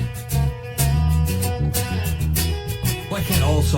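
A song plays back with added bass, a heavy, pulsing low end under a busy, loud musical mix that runs continuously throughout.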